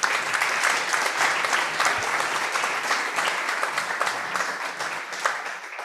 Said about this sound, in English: we want to give the panelists another round of applause